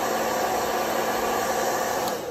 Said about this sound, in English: you want to use the hair dryer